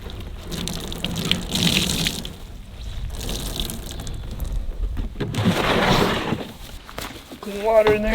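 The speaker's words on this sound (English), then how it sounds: "Get all this soapy, dirty water off here." Water splashes and gushes as soapy, dirty water is rinsed off the hull of a pack boat used as a work surface at an off-grid camp, coming in uneven pours close by, with a voice speaking over parts of it.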